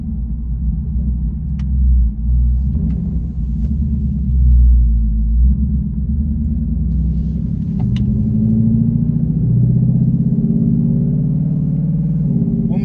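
The Hellion twin turbo Mustang's engine rumbles loud and deep as the radial tires spin at speed, a sustained heavy roar that surges and wavers over the whole stretch, with no voices.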